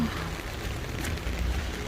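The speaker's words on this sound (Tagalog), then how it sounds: "Ang lakas ng ulan." Steady, dense heavy rain in Kings Meadow hissing across a broad range, a constant wash of drops with no talking.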